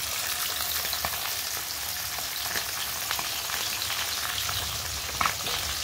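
Fish sizzles and crackles steadily in hot oil in a wok, a close, even frying hiss with scattered pops and no voices.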